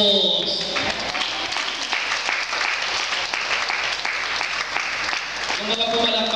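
A congregation at an El Shaddai prayer meeting in Masantol, Pampanga claps steadily for several seconds in a dense, room-filling round of applause, with voices faintly mixed in.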